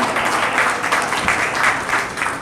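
An audience at a company gathering breaks into steady applause, dense and continuous clapping that fills the whole moment at close range with no speech on top.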